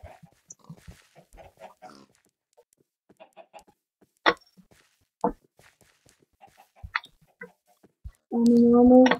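Chicken clucking in a block-hunt style video game, with short scattered clucks and squawks across the clip, one sharper call midway, and a louder sustained cackle at the end.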